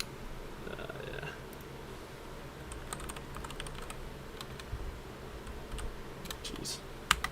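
Soft, quick keystrokes on a computer keyboard during a gaming livestream, irregular bursts of clicking at low volume with a faint steady hum beneath and a couple of sharper key hits near the end.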